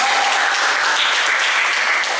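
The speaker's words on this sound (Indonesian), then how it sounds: "Tepuk tangan dulu kelompok." A classroom of students applauds a presentation group, a loud, dense burst of continuous clapping filling the room for a couple of seconds.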